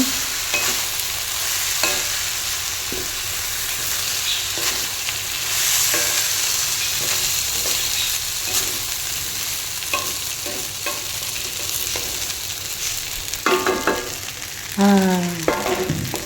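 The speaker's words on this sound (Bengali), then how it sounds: "এবার চাল আর ডালটা একসাথে মিশিয়ে নেব।" Washed rice and lentils sizzle steadily in hot oil in a pan for khichuri while a spoon scrapes and stirs them in repeated strokes, with a few sharper clinks near the end.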